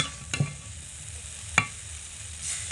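Steamed flour chowmein is tossed with spices in a pan, a soft low sizzle under two distinct scraping knocks of the spatula, close and quiet, with no voices.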